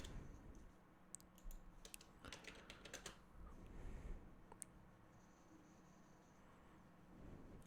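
Keys on a computer keyboard are tapped to log in to Windows, giving quiet irregular clicks in short bursts, then a pause and a few more taps, close and soft against a low room hiss.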